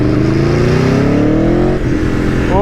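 A 1100 cc V4 engine on an Aprilia Tuono V4 1100 motorcycle revs up loud and close with a rising, steady roar. It keeps climbing for almost two seconds, then the pitch breaks and drops as the rider shifts.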